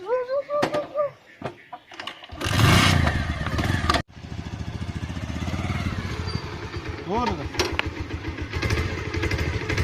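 A motorbike engine starts with a burst, then idles in a steady close putter for several seconds, with voices speaking over the first moments and briefly during the idle.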